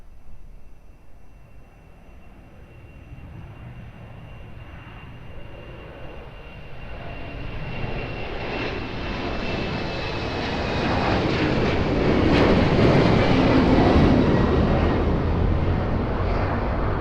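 An airliner taking off from runway 02 at Lisbon Airport, a deep engine roar swelling steadily from a distant rumble to a loud, broad thrust peak, heard alone with a faint whine early on.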